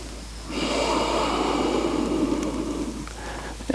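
A deep final exhale during a yoga session, one long airy breath through the nose starting after a brief pause, close and steady for about two and a half seconds before fading.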